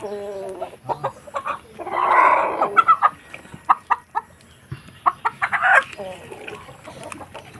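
A black Australorp hen clucks repeatedly in short bursts, with a couple of louder squawking calls rising above the steady clucking; fairly close.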